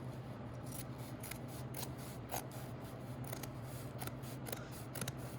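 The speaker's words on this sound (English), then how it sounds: "So here I'm going to cut only the top layer, just halfway." Scissors snip through the top layer of a collar's fabric seam allowance in quiet, close, repeated crisp cuts over a steady low hum, with no talk.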